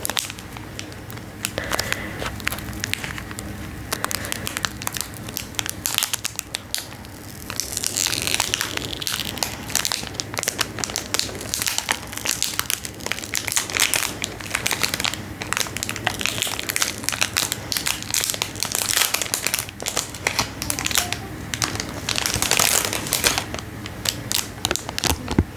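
Close-up unwrapping of a Galaxybox subscription package: continuous near crinkling, crackling and crushing of packaging, steady and busy for the whole stretch, with no voice.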